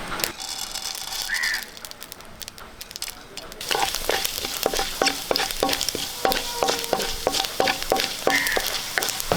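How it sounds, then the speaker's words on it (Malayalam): Mustard seeds and urad dal fry in hot coconut oil for Kerala-style rava upma, a loud continuous sizzle that turns into dense crackling and popping of the seeds, with a crow cawing faintly in the background and no speech. "കുറച്ച് വെളിച്ചെണ്ണ ഒഴിച്ചു കൊടുക്കാം അര ടീസ്പൂണ് കടുക് ഇട്ട് കൊടുക്കാം ഒരു സ്പൂണ് ഉഴുന്ന്"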